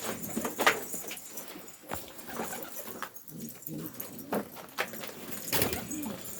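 Pigeons coo repeatedly in a loft, soft throaty calls overlapping with occasional wing flaps and rustling, close by, with brief faint voices in the background.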